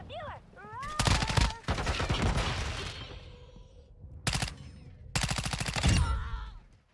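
Call of Duty gunfire in several sharp bursts of rapid automatic shots, moderately loud and spaced apart, with someone talking between them.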